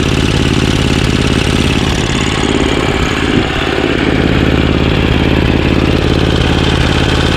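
An Ariens 524 two-stage snowblower with a 5 HP Tecumseh engine idles steadily nearby, a loud, continuous, even chug with no speech.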